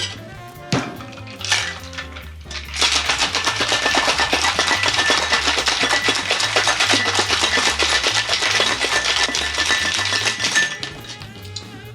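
Homemade eggnog with raw egg and alcohol is shaken hard in a cocktail shaker, a fast, loud, continuous rattling clatter that starts after a brief pause and keeps up a steady rhythm for about ten seconds.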